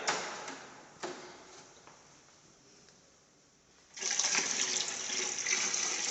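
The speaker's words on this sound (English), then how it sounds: "So here the borewell water is running continuously." Borewell water runs continuously into a sump tank as a steady, hissing rush of flow. It fades somewhat over the first few seconds, then turns abruptly louder and brighter partway through and stays strong to the end. No voices are present.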